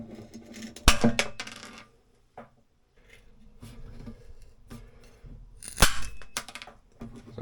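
PVC cutters snip small pieces off a length of PVC trim during a cupboard door hinge repair, giving two sharp, loud cracks a few seconds apart with quieter handling rustle in between.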